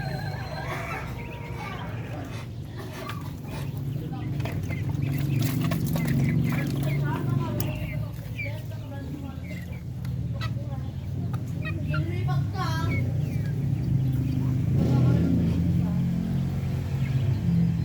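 Young three-month-old Darag roosters cluck and call repeatedly at close range, with a steady low background hum and a voice speaking over parts of the scene.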